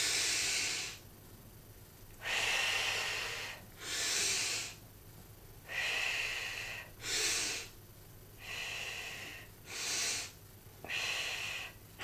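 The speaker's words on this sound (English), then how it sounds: "some people like the hand breathing, where you breathe in for 4 seconds, out for 4 seconds" Slow paced breathing exercise, breathing in and out for about four seconds each, several soft hissing breaths alternating with quiet gaps in a steady rhythm, close and alone.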